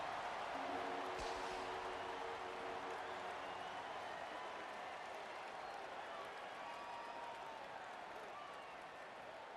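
Crowd noise in a stadium after a touchdown in the EA Sports College Football video game, a faint, steady wash of cheering that slowly fades, with no clear voices over it.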